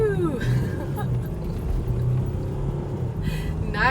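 A 2015 Mercedes GL350 diesel 4Matic SUV pulls away under acceleration, a steady low engine rumble with road noise filling the cabin from start to finish.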